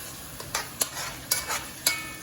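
Pork chops searing in a pan over high heat, a continuous sizzle broken by several sharp spatula scrapes and stirs at irregular moments, close and alone.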